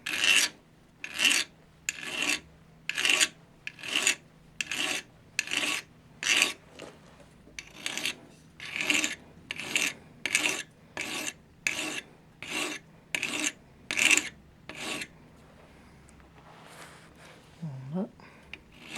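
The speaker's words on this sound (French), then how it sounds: "je vais mettre un angle avec ma lime et passer quelques coups" A metal hand file rasps an angle onto a forged nail being shaped into a belt buckle, about fifteen steady, evenly spaced strokes close up, then quiet with a faint creak near the end.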